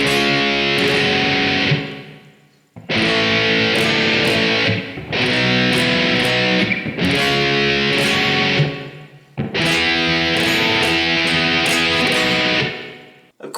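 Distorted electric guitar runs through an intro, a series of loud ringing chord blasts separated by short gaps, played solo with no voices.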